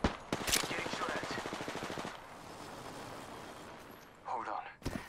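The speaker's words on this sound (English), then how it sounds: "Getting shot at." Rapid automatic gunfire from the battle royale game Apex Legends bursts at the start, followed by quieter game ambience and a short second burst near the end.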